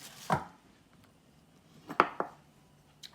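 A kitchen knife chopping cabbage finely for a cabbage salad gives a few sharp, close strikes on a board, one early and a quick pair later, with quiet gaps between.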